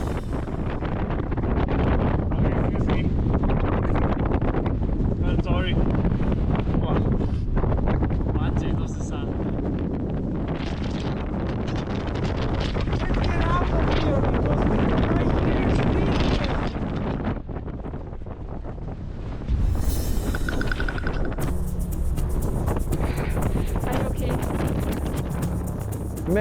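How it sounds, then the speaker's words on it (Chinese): Strong, loud wind buffets the microphone continuously on a high, rocky mountain climb in the Andes among the Quechua people, a roaring gusty rush throughout with a brief change near the end. "风很大"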